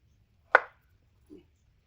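A single crisp knife cut through a soft boiled potato onto a board, followed a moment later by a faint, dull second tap.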